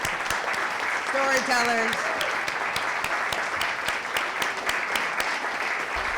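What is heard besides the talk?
audience applause for storytellers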